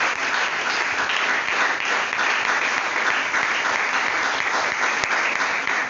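A church congregation breaks into continuous loud applause and acclaim, thick unbroken clapping with crowd voices blended in, holding steady from start to finish.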